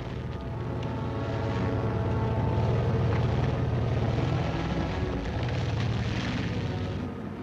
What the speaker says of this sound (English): These are the sights and sounds of a full division on the move.